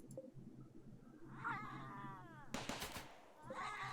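Automated turret firing in RimWorld during a fight, heard as a sharp burst of rapid gunfire crackle partway through, with an animal-like wail and a voice nearby before it.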